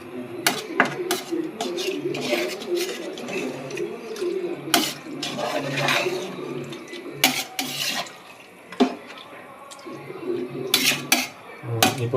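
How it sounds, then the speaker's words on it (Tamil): A cooking pot being stirred after water is added, with repeated metallic scrapes and clinks against the pot over running water, and talk in the background between the clanks. "தண்ணி ஊற்றி ஒரு கிண்டிக்கலாங்க."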